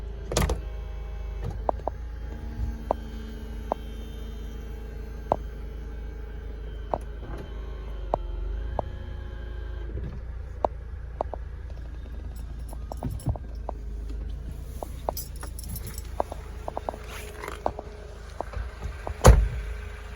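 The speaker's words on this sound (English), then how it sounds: "You can just see it going, the boot lid lifting behind me, and there goes the roof." Mercedes SLK 230 automatic (2004) retractable hardtop in motion as the boot lid lifts and the roof folds away, a faint steady electric motor whir with repeated small clicks and clunks, ending in a louder thunk.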